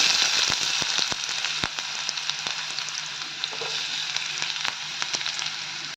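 Onions sizzle steadily in hot oil in a pan, a continuous close frying hiss broken by sharp crackles and pops, with no talk.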